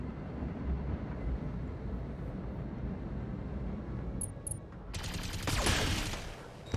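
Weapons fire in the BattleTech mech combat game, a loud steady roar of sustained gunfire with a harsh burst of impacts near the end, filling the whole stretch without talk.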